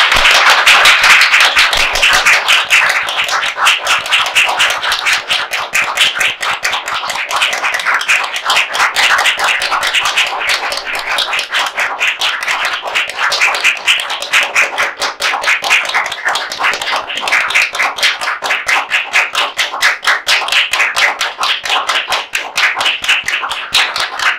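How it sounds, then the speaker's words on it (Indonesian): A group claps continuously during a National Health Day podcast session in Yogyakarta, a dense, steady patter of many hands that keeps a fairly even loudness for about 24 seconds, with no voices over it. "Yuk mari kita tepuk tangan selama 56 detik"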